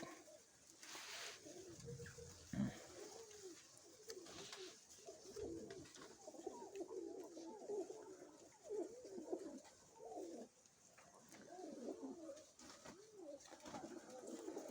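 Soft, repeated cooing of pigeons in Chornobaivka, Mykolaiv, throughout, a low burbling call from several birds nearby, with faint background rustling and no speech.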